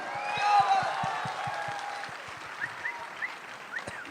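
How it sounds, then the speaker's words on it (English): Audience at a live concert by a band at a summit, clapping in a moderate wash that peaks early and then thins and fades, with faint cheers and whoops on top and a steady musical beat underneath. "A big round of applause for them."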